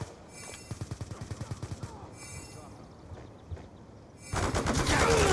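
Gunfire in the Call of Duty Black Ops 2 video game, with a rapid burst of automatic shots followed by scattered quieter shots and a louder rushing blast near the end, against background game noise.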